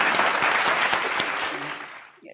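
An audience breaks into a short burst of dense applause that fades out within a couple of seconds.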